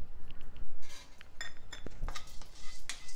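Sunflower, watermelon and pumpkin seeds tipped into a pan, giving a run of light clinks, taps and rattles against the metal, close and fairly crisp, with no talking.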